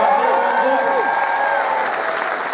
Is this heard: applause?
yes